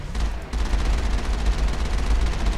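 Tali's shotgun in Mass Effect: dense, loud rapid gunfire with booming low impacts, sustained and close for the whole stretch.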